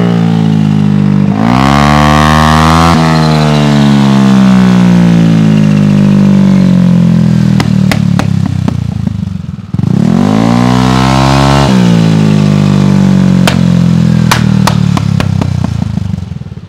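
A motorcycle fitted with an Aracer RC Mini5 ECU revs hard against launch control, holding a loud, steady high-rpm roar that drops briefly before rising again, with crisp popping clatter near the end of each run.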